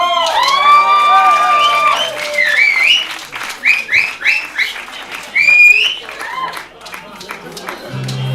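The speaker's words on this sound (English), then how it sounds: "So a massive round of applause for the very first time, the very new Mr. and Mrs. Schneider-Lau." Guests at a wedding reception at Oldberrow House applaud the newlyweds' first dance, with crowd clapping, whistles and cheers rising and falling in waves, and voices mixed in.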